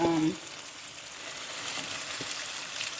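Lamb pieces for stew sear in a hot pan with a steady, close broadband sizzle that runs the whole time, after a brief clatter at the start.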